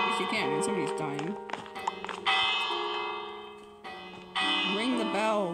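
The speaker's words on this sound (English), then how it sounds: "Ring the bell." A bell rings in a Minecraft murder mystery game, clanging loudly several times while people talk over it.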